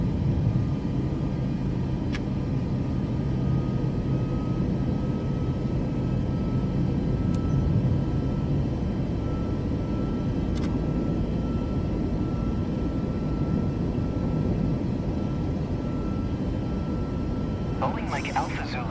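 A Boeing 737 MAX 8 in a flight simulator rolls through its takeoff with a loud, steady engine roar and rumble throughout, while a voice talks over it.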